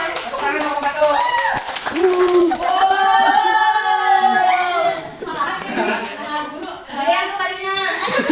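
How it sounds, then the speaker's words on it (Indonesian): Elementary classroom of children clapping their hands in rhythmic bursts, mixed with lively children's voices chanting and talking throughout. "Tepuk tangan mau membantu."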